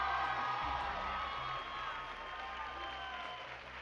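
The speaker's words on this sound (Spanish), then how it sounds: "Aquí está el público aplaudiéndote porque te lo mereces." A studio audience applauds and cheers steadily on La Academia, the televised singing competition, as a dense wash of clapping runs throughout, with a faint musical tone beneath.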